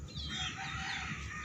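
Chickens cluck and a rooster crows nearby, their calls mixed together loudly and continuously in a short burst.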